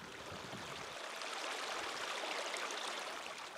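A stream flows steadily in the open, a constant soft rushing and trickling of water with no voices, faint and even throughout.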